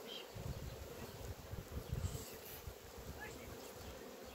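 Honeybees buzz in a low, steady drone at a hive where they crowd onto a protein patty scented with a strong essential oil, heard faintly and close, with no voices.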